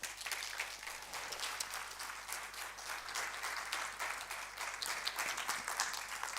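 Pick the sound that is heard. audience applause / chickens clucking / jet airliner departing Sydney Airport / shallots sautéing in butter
audience applause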